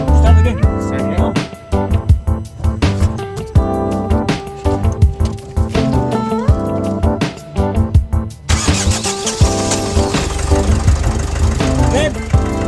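Engine of a 2007 Opel Vivaro van being started and revved after starter motor replacement, loud and close with a knocking, rising mechanical roar and clattering, while people talk over it.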